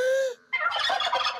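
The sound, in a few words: bird call device imitating a female Dindonsaurus Rex turkey cry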